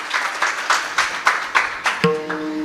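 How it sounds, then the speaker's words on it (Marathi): Audience clapping for the children after their accompaniment at a Marathi kirtan, short bursts of applause in a rhythmic pattern, followed by a held musical tone from a harmonium near the end. "आमच्या मुलांकरता जोरदार टाळ्या वाजवा"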